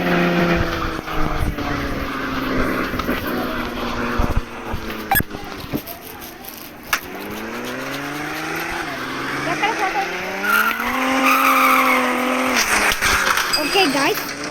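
A vehicle engine drones and revs continuously in the LAC mobile game, rising and falling in pitch as it drives, while a voice talks over it.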